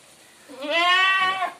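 A hornless dairy goat on sale at a livestock market lets out a single close, wavering bleat that rises and holds for about a second, loud against a quiet background.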